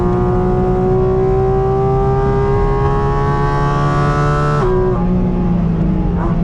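A Porsche GT4 RS engine runs flat out around the Spa circuit, a loud, steady in-car roar climbing in pitch before a sharp upshift drops it and it starts to climb again.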